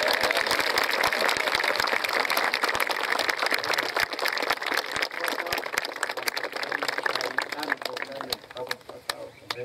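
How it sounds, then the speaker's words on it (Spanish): Sustained crowd applause in a church during a Sunday baptism service, dense rapid clapping from many people, steady and loud throughout, with voices mixed in beneath it. "Aplauso para Jesús."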